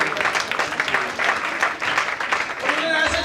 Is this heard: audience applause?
yes